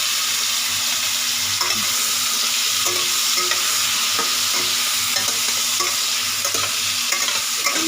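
Ingredients with turmeric fry in a pan on an induction cooktop, a constant loud sizzle with a regular pattern of spatula scrapes and stirring knocks, close up, and nobody speaking.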